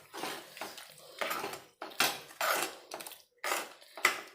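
A spoon stirs mutton kulambu in a cooking pot, giving about eight rhythmic scraping, clattering strokes of metal on the pan, each a short burst with brief gaps between, close and clear with no speech.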